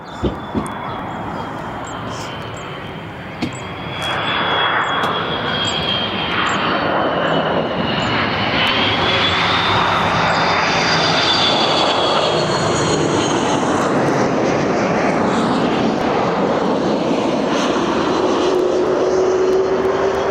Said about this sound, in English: And here it comes. Lovely aircraft, very popular with spotters here.